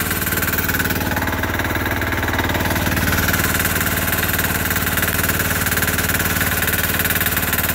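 Sears Suburban garden tractor with a 6HP diesel engine runs steadily below full speed, a loud, continuous knocking chug with constant vibration throughout and no talking.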